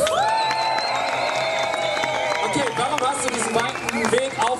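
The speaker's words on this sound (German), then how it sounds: "Einen fetten Applaus." A crowd at an outdoor protest cheers and whoops with clapping breaking out, loud and sustained, voices shouting over the busy gathering.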